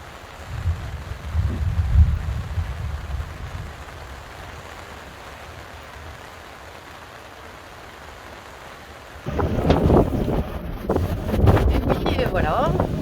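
Strong wind gusts buffet a sailboat, a rough, roaring rumble that swells and eases and then returns louder with sharp crackles near the end.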